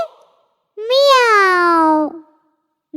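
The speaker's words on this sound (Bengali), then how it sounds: "বিড়াল ডাকে" A cat gives a single clear, drawn-out meow lasting over a second, loud and close, with silence before and after.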